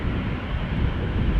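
A Silkway West Airlines Boeing 747 cargo jet departing Amsterdam Schiphol, heard as a steady broad low roar with wind buffeting, continuous and fairly loud.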